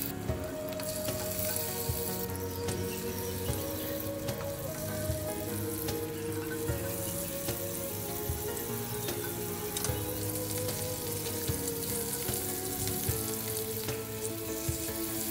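Hilsa fish pieces frying in mustard oil in a wok give a steady, dense sizzle that runs unbroken throughout, close and fairly loud, with faint stirring.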